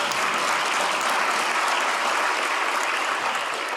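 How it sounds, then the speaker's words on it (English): At a women's brunch event, a crowd claps in a steady, dense round of applause that holds at an even level for a few seconds without talk. "Please let's give Crystal another round of applause"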